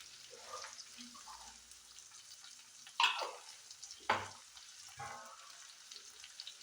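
Green beans for payar thoran stirred in a frying pan, a soft steady sizzle broken by a few sharper scraping clatters of the spoon against the pan, close and alone without voices.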